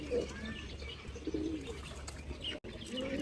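Soft pigeon coos repeat a few times against a quiet outdoor background, with faint chirps and a brief flutter of wings.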